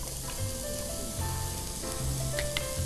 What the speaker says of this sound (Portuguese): eu já vou começar levando na panela o azeite com a cebola